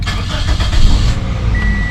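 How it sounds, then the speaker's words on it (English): A 2006 Toyota Corolla S engine cranks and catches after an oil and filter change, a loud close start that settles into a steady idle. "So I'm going to start up the vehicle."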